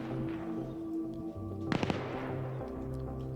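Gunfire in the military shooter Arma 3 during an esports match: a quick burst of three or four sharp cracks mid-clip, layered over a steady background game soundscape with faint hum.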